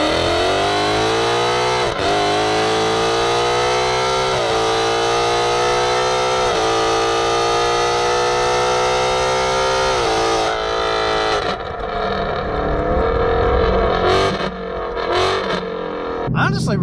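A 2018-2019 Mustang GT V8 fitted with Corsa headers and a Double Helix X-pipe drones loudly and steadily at cruise with rising pitch, then lets off into a rougher, crackling burble near the end.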